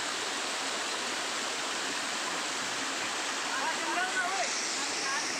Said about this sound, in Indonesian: Ini air terjun yang kedua ya guys